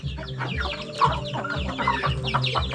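Several chickens cluck in short repeated bursts close by, a busy flock chattering steadily without pause.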